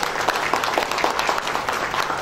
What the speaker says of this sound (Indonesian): Boleh kita beri tepuk tangan ya, Maria?